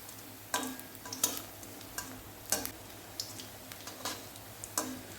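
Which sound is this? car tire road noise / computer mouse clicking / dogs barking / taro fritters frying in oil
taro fritters frying in oil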